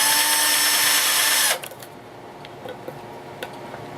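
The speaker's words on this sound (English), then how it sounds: "Now I'm gonna drill to the next hole." A power drill whirs loudly for about a second and a half boring a hole in a metal hobo tea kettle, then cuts off, leaving quiet ticking and small handling taps.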